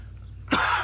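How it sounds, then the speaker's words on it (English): A single short, close morning cough bursts out after a moment of quiet, with no talking around it. "Got that morning cough."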